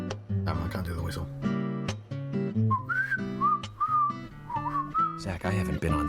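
Character whistling a tune in the video game Deadly Premonition, a clear, wavering melody of several notes played over background music, with some talk mixed in.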